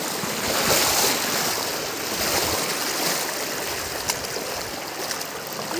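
The Penna River rushes continuously in strong flow, a dense roar with gusty noise over it and no voices.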